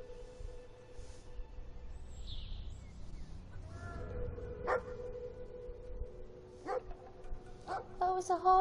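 Cartoonish dog barking in the video game Brothers: A Tale of Two Sons, a few short yips and barks near the end over a low game soundscape with background music and a bird-like chirp.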